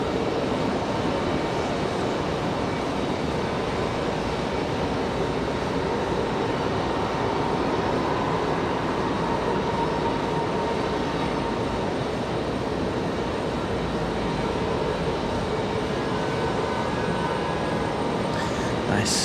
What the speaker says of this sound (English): We've got an exec jet touching down